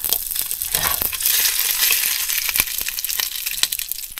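Crackling, spattering sizzle of leftover fish and squid frying in oil, close and fairly loud, with scattered sharp pops.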